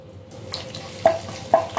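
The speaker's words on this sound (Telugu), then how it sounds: "కాసేపు ఫ్రై అవ్వనివ్వాలండి." Curry leaves and mustard seeds frying in a tablespoon of oil in a pan for tempering radish chutney: a quiet, low sizzle broken by a few sharp individual pops, close and without talk.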